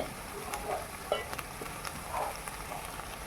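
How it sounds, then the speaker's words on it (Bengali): Spice masala for a jackfruit curry sizzling and frying in a pan, with soft crackling and occasional stirring scrapes at low, steady volume. "এখন আমি মশলাটিকে ভালো করে কষিয়ে নেব"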